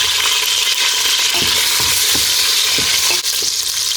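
Small prepared bones fry in a pan for a spinach and scampi dish. There is a constant loud sizzle, and a utensil scrapes and clacks against the pan several times as the bones are stirred. No voices.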